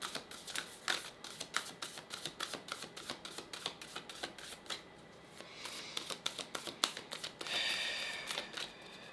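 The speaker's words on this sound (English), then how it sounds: "Let's pull you a Spirit Animal Oracle card." Rapid, crisp riffling and flicking as Spirit Animal Oracle cards are shuffled close by, with quick repeated snaps and a brief pause midway, fairly quiet throughout.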